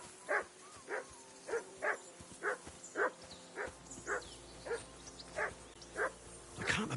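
A dog in Kingdom Come: Deliverance II barks repeatedly at a steady, evenly spaced rhythm, about a dozen sharp barks at moderate distance over a quiet ambient background.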